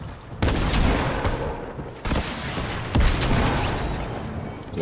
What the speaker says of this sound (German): Ja, die Schüsse gehen über meinen Kopf.